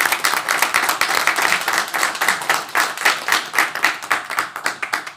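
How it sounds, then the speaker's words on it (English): A conference audience claps for guest panelists after a hurricane research discussion, a dense burst of many hands that stays lively and uneven for several seconds. "can we please get a round of applause for our amazing guests here today?"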